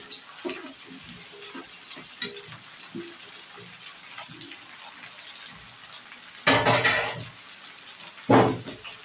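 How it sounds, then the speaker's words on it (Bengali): Chopped cabbage dropped into a pan of frying mixed vegetables, including cauliflower, for a curry. A low background hiss swells into two loud, gushing sizzle bursts near the end. "এবার আমি এই কেটে রাখা বাঁধাকপিটাও দিয়ে দিচ্ছি।"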